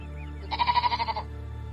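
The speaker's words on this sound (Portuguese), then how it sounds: "Bom dia, ovelha bonitinha!" One sheep gives a single wavering bleat, close and clear, with a pulsing tremolo that lasts under a second over a quiet steady background.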